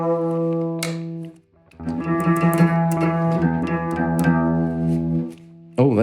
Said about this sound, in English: Why don't I try an electric?